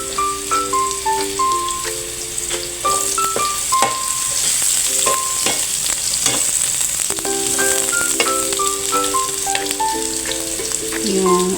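Onion sautéing with ginger in a pan for squid adobo, a steady bright sizzle running the whole time with scattered crackles and clinks of a utensil against the pan.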